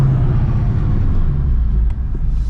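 A Toyota Supra's engine rumbles as it downshifts with automatic rev matching, a deep, loud, close drone inside the car that dips briefly near the end.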